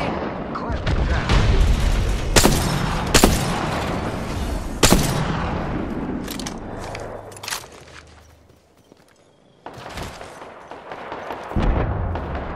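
Weapon fire in the Apex Legends battle royale game, a handful of sharp, loud transient shots spaced irregularly over a dense rumbling game mix, with a quieter lull partway through before more bursts.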